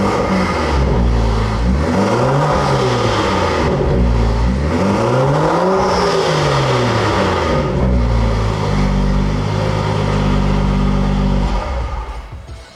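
A BMW F-chassis car engine close by is blipped repeatedly, with several quick rising and falling revs over a steady idle before it settles back to a constant drone.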